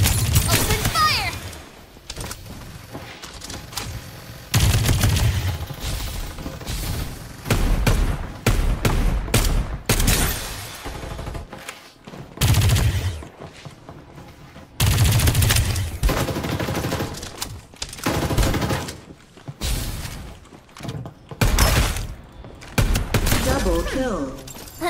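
Gunfire in the video game Farlight 84, repeated loud bursts of rapid shots with short gaps between volleys, close and punchy throughout.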